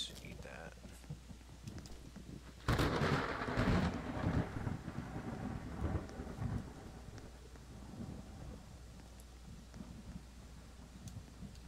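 A thunderclap cracks during a storm in the video game Apocalypse Rising, a sudden loud rumble that slowly fades into a low, steady wash of wind and rain.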